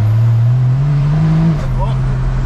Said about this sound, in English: we're merging onto the highway here. We'll give it a little bit of juice and see if it kind of, see if it pulls just as good.